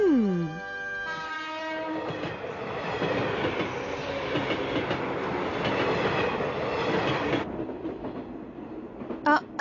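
A cartoon train on the way into a station sounds its horn, then rumbles and clacks steadily along the rails close by for several seconds before the noise cuts off abruptly.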